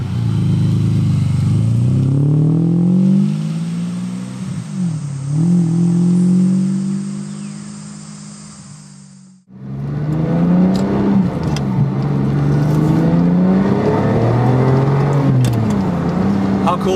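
A Ferrari 550 Maranello V12 idles and revs in rising and falling sweeps, loud and close. A brief drop comes mid-way before the engine surges again. Talk is heard over it.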